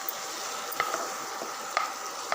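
Coriander paste with green chili sautés in a pan, a steady close sizzle punctuated by a few sharp spatula taps and scrapes, with no one speaking.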